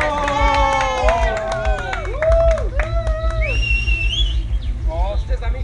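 A crowd cheers and claps at an awards announcement, with loud whoops, shouted voices and whistling cries rising over a steady bed of applause throughout.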